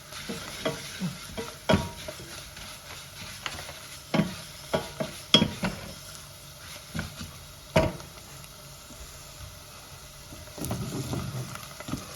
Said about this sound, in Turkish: Biber salçamla güzelce kokusu çıkana kadar kavrulsun soğanım.